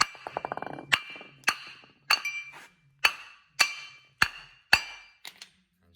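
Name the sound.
hammering around a brake disc to separate it from the hub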